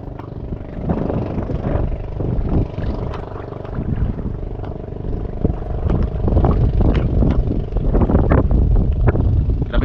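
Strong wind roars and buffets steadily against the microphone while fishing on a rainy day, gusting louder toward the end, with no voices.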